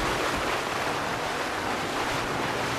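Steady rushing water and splashing from a car sinking in the Fortnite video game, a dense, even wash of noise with no talk.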